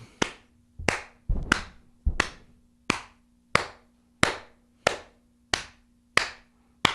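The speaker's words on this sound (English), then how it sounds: "Slow clap for you, Limbo." A single person gives a slow clap: about ten sharp, close hand claps spaced evenly roughly two-thirds of a second apart, each ringing briefly in a quiet room.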